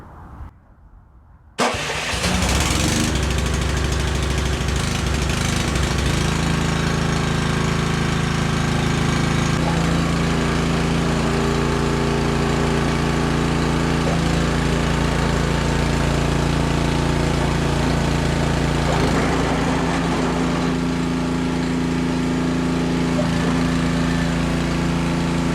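A Honda HS80 snowblower engine, after a friction disc replacement, starts with a brief cranking burst and then settles into a loud, steady idle that runs close to the microphone for over twenty seconds.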